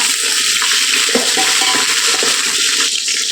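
Eggplant sautés in ghee in a pan for brinjal biryani, producing a continuous loud, close sizzle with soft stirring and scraping mixed through, no voices.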